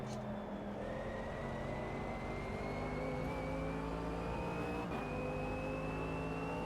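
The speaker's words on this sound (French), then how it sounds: "derrière, il y a une voiture qui revient comme un boulet de canon" In the Automobilista 2 racing game, a race car closes in from behind, its engine whine climbing steadily in pitch and growing louder over several seconds, layered over the player's own steady engine drone.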